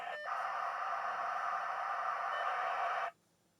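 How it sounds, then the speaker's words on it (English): Two dial-up modems connecting over a phone line in an early-1990s setup, a steady, loud, continuous screech of handshake tones lasting about three seconds, then cutting off abruptly into near silence. "here comes the connection between the two modems"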